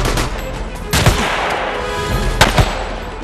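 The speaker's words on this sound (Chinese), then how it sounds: "第一组，开火。" A squad opens fire in a special forces film battle scene: loud close bursts of rapid gunfire crackle continuously, with sharper heavy shots standing out near the middle and end, and no voices.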